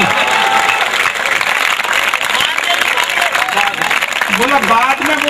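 Audience applause at a Hindi comic poetry recital (kavi sammelan), dense steady clapping from a large crowd filling the whole stretch, with a voice rising over it near the end.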